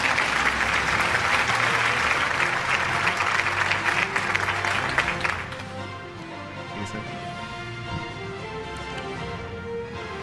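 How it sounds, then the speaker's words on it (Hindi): An audience at a City News Network annual award show claps loudly and densely for about five seconds, then the applause drops away to a quieter room with faint, scattered claps. "आपकी भरपूर तालियों में।"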